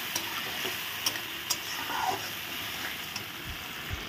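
Spices being stir-fried in a pan for a spicy Bengali bori (lentil dumpling) dish, with a steady close sizzle and scattered light ticks and scrapes of stirring throughout, and no talk.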